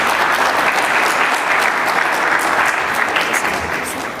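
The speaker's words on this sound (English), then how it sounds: "A big round of applause, ladies and gentlemen, to Mr. Ed Schlesinger." Audience applause at a tech conference, steady dense clapping from a large crowd held at full strength throughout, tapering slightly at the end.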